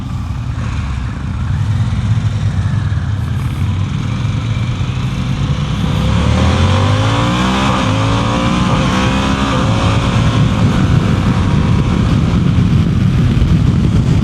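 A 2026 Harley-Davidson Pan America Limited motorcycle rides steadily, its engine note sweeping up and down through gear shifts, including a hitch between second and third with the quick shifter, loud and close with no talking.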